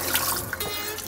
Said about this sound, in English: just try and rinse some of that lemon water off of there